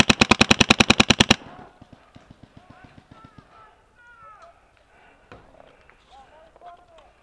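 A loud close burst of rapid automatic gunfire, about a dozen evenly spaced shots, rings out during a Dark Ops field game in New Jersey, then fainter scattered pops and players' voices follow.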